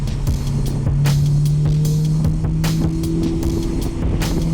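A Honda S2000 pulls out of the pit lane at Eagles Canyon Raceway on a wet track, its engine droning loud and steady with a rising tone, accompanied by tire hiss and scattered knocks and bumps.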